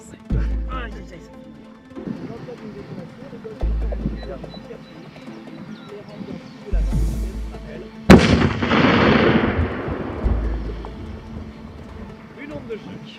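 A sharp, loud acetylene explosion cracks out midway and rolls into a long rumbling decay, preceded by low thuds and a person talking.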